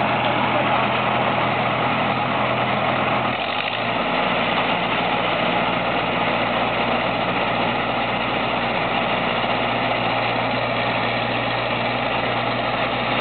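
A stuck Fortschritt E 514 combine harvester in Bohuslavice, its engine running with a loud, steady diesel drone and a low rumble that shifts pitch after a few seconds as it labours.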